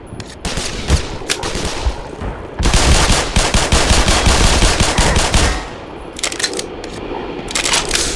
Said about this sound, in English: Maybe the rapid fire on the pistol is actually useful here.